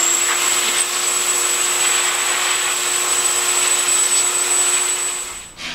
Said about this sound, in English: now you can take that shop vac, turn it on, and blow most of the stuff out of this filter